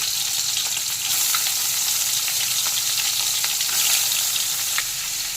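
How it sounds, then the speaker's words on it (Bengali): Prawns rubbed with salt and turmeric fry in hot mustard oil, a dense, loud, continuous sizzle close up with occasional small pops and crackles, no voices. "দিয়ে দেবো সর্ষের তেল মাছ ভাজার জন্য নুন হলুদ মাখানো চিংড়ি মাছগুলোকে ছেড়ে দেবো"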